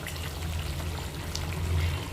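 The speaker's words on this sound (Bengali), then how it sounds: "দেখো ভালো করে গ্রেভিটা ফুটতে শুরু করেছে।" Bhetki fish curry gravy bubbles in a pan with a steady, close simmering and sputtering wash that stays even throughout, with no voices.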